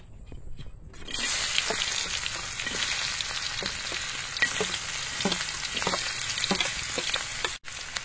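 Onion and garlic drop into hot oil, starting a loud, continuous sizzle that runs steadily to the end, with a few faint scrapes in it.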